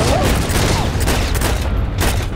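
Dense, loud gunfire in the World War II shooter Heroes & Generals, a rapid fusillade of overlapping shots and booms packed close together throughout with no pause.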